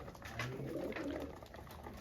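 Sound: pigeons cooing

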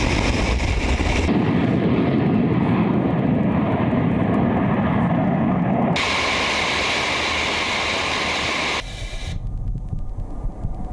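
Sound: French Rafale and Mirage 2000 fighter jets in air strikes

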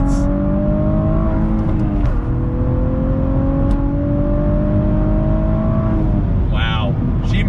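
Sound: Cadillac ATS-V with 6-speed manual accelerating on throttle

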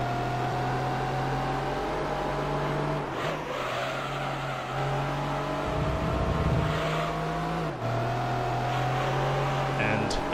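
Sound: race car engine revving in the video game Gran Turismo 3

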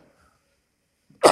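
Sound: a person sneezing

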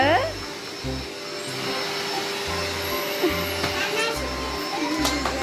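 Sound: electric vacuum cleaner switched on and running

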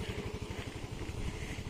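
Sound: motorcycle engine running

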